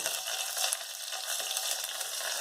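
Garlic spice mixture frying in a pan for rasam makes a steady, moderately quiet sizzle with soft stirring scrapes throughout and no voices.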